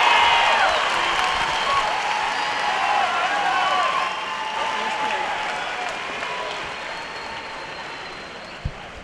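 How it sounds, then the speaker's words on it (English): Loud, sustained applause from a CrossFit Games crowd after a women's event win, dense clapping that slowly fades, with voices and shouts mixed in. "A big round of applause."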